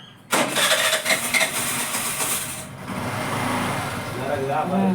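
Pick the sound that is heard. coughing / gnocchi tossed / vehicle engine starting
vehicle engine starting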